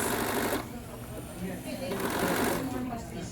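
A sewing machine stitches a shirt cuff in two quick bursts of rapid needle clatter, with a pause between them and talk over the top.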